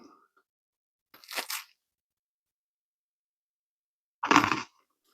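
Two crisp crunches as someone bites into the crunchy, cheesy bottom crust of a homemade Chicago-style stuffed deep dish pizza, each short bite separated by a few seconds of near silence.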